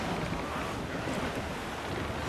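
Squall wind and rough waves at sea in the pirate sailing game Assassin's Creed 4 Black Flag, a dense, steady roar of gusting wind and surf rushing close, with no voices.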